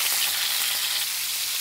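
Pangas fish pieces sizzle steadily in a shallow layer of hot oil, a dense, even crackle close up that stays loud and unbroken throughout with no voices.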